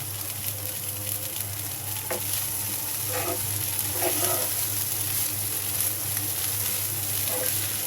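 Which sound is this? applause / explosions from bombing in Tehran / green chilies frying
green chilies frying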